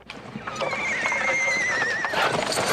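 A horse whinnies in a long, wavering call while hooves clop irregularly on the ground nearby.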